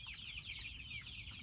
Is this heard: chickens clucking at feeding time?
yes